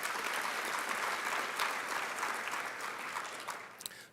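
A large audience at a Teacher of the Year 2022 school event claps for sponsors in a continuous, even roar of applause that gradually tapers, with a few isolated claps standing out as it dies down.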